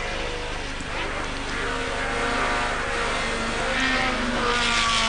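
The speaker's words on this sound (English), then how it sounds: "good chance to listen to the engine of the car from those onboard shots" Onboard view of a GT race car in 2002 FIA GT Super Pole qualifying at Magny-Cours, its engine a loud, continuous roar that climbs and falls in pitch through gear changes and corners, with no talk.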